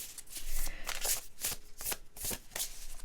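Close, brisk card shuffling, a run of rapid papery riffles and flutters in quick bursts.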